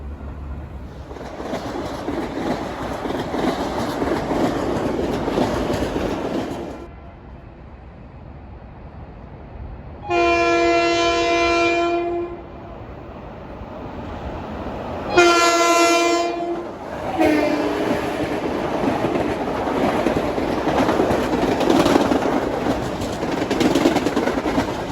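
A Long Island Rail Road train rushes through Mineola station, sounding its K5LA air horn in two separate loud chord blasts between stretches of roaring wheels and rattling cars close by.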